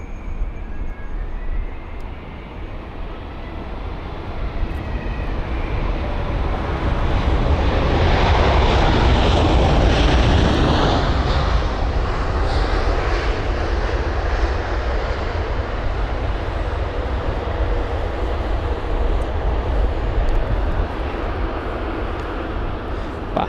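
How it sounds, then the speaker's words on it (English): A jet airliner roars past at London Heathrow, a broad, loud engine rumble that swells over several seconds and then slowly fades, with no voices over it. "it's really nice to see the Kuwait Air aircraft"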